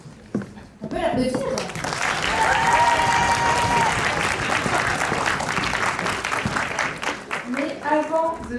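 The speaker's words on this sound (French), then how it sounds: "On peut l'applaudir." Sustained audience applause for a cosplay contest placing at the Cartoon Fair 2023 convention, thick and loud through the middle, with a voice heard at the opening and speech resuming as the clapping dies down.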